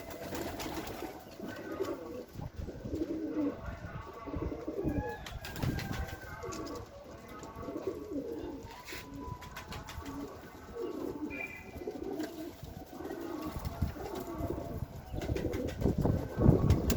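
White pigeons coo in a loft, soft repeated throaty calls overlapping at close range, mixed with light chirps, shuffling and occasional wing flutters, with no talking.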